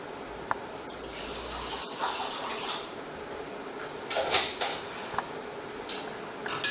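Alkaline 11.5 pH water from a Kangen ionizer machine pours steadily into a container beside Kinley bottled water, a continuous close splashing wash with a few light clinks of the vessel near the end.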